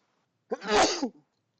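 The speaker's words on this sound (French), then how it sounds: "J'éternue." A single sharp sneeze, close and clear, with a quick inhale before it and silence around it.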